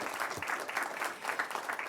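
Audience applause at a school board of education meeting honouring two students, steady dense clapping filling the room for a couple of seconds, with no voices over it.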